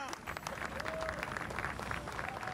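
A large crowd applauds and cheers steadily as the all-new Boeing 787 Dreamliner arrives in Japan for the first time, dense clapping held at an even level, with some voices mixed in.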